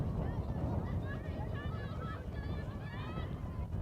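Gusty wind buffets the microphone at an outdoor ultimate frisbee game, a steady low roar under faint distant voices and calls from the players.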